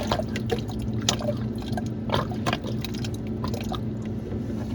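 Water pours and trickles steadily out of the back of a Whirlpool ice maker, a close, continuous wet splashing with small squishy bursts, no voices.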